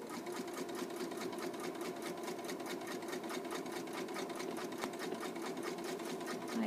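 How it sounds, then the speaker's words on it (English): Domestic sewing machine stitching steadily along a marked line, a fast even needle chatter running continuously and close up with no pauses and no talk. "Lift my presser foot, and I'm going to sew back to where I started."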